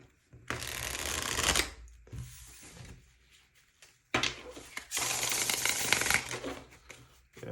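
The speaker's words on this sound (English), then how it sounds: "I feel like giving this deck a good shuffle." Two bursts of crisp riffle shuffling of a tarot deck, close up, each lasting over a second with a pause between.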